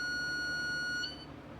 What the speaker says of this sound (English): Get my buzzer back on, and we go back clockwise until we lose the buzzer